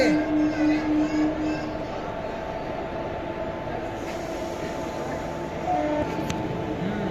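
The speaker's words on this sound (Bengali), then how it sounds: "এখন এই যে ট্রেনটা ছেড়ে দিল" A train pulls out of Talit railway station with a low, steady rumble and a drawn-out mechanical whine. A faint higher tone sounds near the end.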